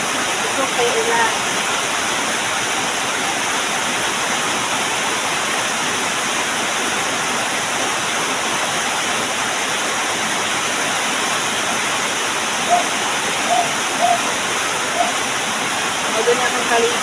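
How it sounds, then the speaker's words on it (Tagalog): Heavy rain falls in a steady, dense wash of noise for the whole stretch, with no letup and a few faint sounds near the end. "Ito kay ulan."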